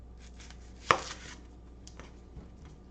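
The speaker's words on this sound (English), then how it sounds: "We're going to cut off the ends." A knife slices the end off an onion on a cutting board with one sharp, close cut, followed by a few faint, quieter taps against the board.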